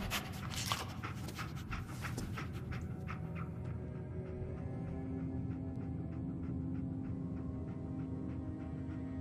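Dogmeat, the dog companion in Fallout 4, pants and sniffs steadily close by, with a busy game soundscape of ambient tones and scattered clicks running underneath throughout.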